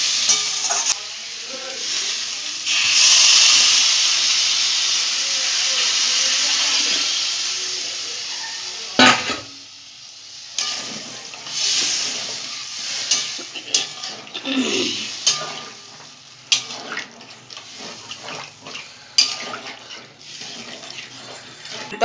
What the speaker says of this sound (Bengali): মাছগুলো এবার ঝোল ফুটে গেছে টকবক করে